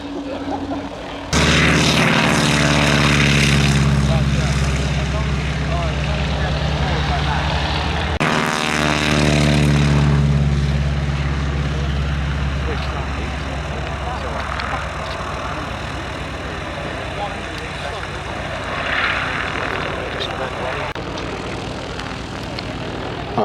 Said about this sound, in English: Just arriving in the overhead, ladies and gentlemen, to begin his display, Tony Smith in the Booker BU-131 Youngman.